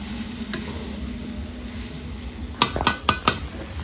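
Soybean and potato curry being stirred in a pan: a low background hiss, then a quick run of four or five sharp, close clinks and scrapes of a metal spoon against the pan.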